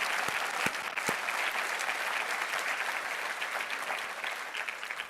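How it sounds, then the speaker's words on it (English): An audience at a university State of the University address applauds steadily, a dense wash of clapping with a few sharper nearby claps standing out. "Let's give them a round of applause."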